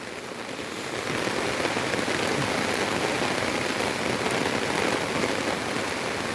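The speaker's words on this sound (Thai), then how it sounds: "ฝนก็ยัง ลงมาเรื่อย ๆ นะครับ ยังไม่ แรงยังไม่หยุดตกเลย" Steady rain pours down during flooding in Narathiwat, Thailand, a dense, even hiss of drops on surfaces that swells slightly after the first second and continues without pause.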